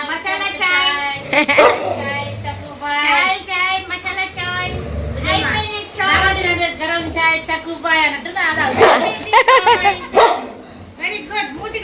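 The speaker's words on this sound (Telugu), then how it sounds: "వీడు ఎందుకు అరుస్తున్నాడో అర్థం కావట్లేదు టోనీ" Pet dogs barking and yipping in repeated loud bursts close by, mixed with whiny, drawn-out cries.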